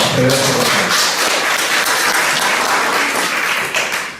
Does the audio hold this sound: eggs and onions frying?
no